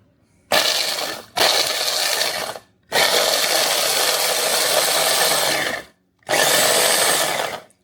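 A kitchen grinder or blender whirs loudly in four bursts of several seconds each, grinding dry breading ingredients for fish sandwiches, with short silent pauses between runs.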